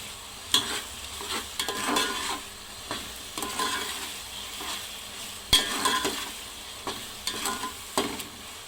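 A paste of coriander, ginger and garlic sizzling and frying in a pan, stirred with sharp scrapes and clicks of a utensil against the metal over a steady close hiss.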